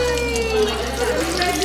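Water runs steadily from an automatic Delta faucet at a sink, a continuous splashing hiss with a low hum beneath and a voice talking over it.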